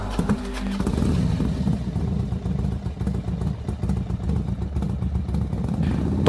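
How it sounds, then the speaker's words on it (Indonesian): A motorcycle engine starts up again and keeps running, a loud, steady, close rumble with some rattling, heard alone for several seconds. "sepeda motor yang awalnya mati tanpa sebab telah kembali menderu dengan halus"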